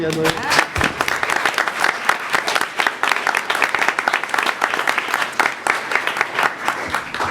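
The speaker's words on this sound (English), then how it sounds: "We can applaud for that." A school committee meeting audience applauds a regional champion student team, with loud, close, many-handed clapping that keeps going steadily and carries a faint voice beneath it.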